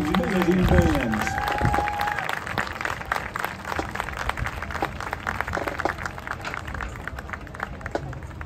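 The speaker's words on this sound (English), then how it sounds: "Let's have a collective round of applause for these Class A amazing bands." Audience applauding Class A bands at a symphony concert: steady, dense clapping from a large crowd in a hall, sustained throughout, with a voice speaking over the start.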